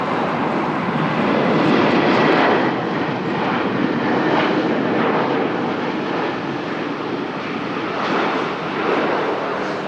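An airplane lands at Lisbon Airport with a bounced touchdown, a loud, continuous engine and airflow roar holding steady, with slight surges, across the whole stretch.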